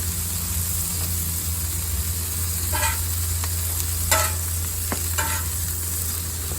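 Burger patties sizzle on a hot Blackstone flat-top griddle with a loud, constant hiss over a low burner hum, while a few brief scraping spatula strokes cut through the sound; no one speaks.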